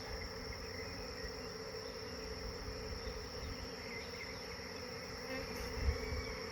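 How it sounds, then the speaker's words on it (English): A steady, continuous buzz of bees being dropped into a hive box, with no pauses, loud and close, with a slightly louder swell near the end. "I'm just being as gentle as I can and dropping these bees off in the box."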